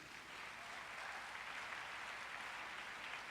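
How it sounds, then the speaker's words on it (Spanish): Congregation applauding at a church service, a steady dense wash of many hands clapping that holds evenly at moderate distance throughout, with no voices over it. "Denle un fuerte aplauso a Dios."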